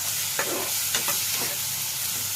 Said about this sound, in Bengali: এবার এটাকে লাল লাল করে ভেজে নেব।